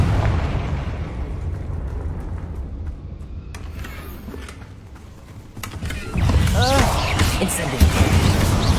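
A Confringo fire spell goes off in Hogwarts Legacy. A continuous roar of battle sound gives way to a loud blast and crackling burst near the end, with game effects and spoken voices mixed in.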